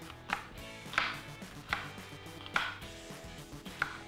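A knife chops an onion on a cutting board in slow, spaced strokes, about six sharp knocks with quiet gaps between them.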